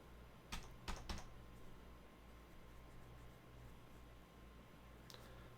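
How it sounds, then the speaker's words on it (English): Computer keyboard keys, including enter and escape, pressed during a stalled Windows 10 upgrade boot from USB: three quick close clicks near the start and one more near the end, over faint steady hum. "Trying the enter key, trying the escape key."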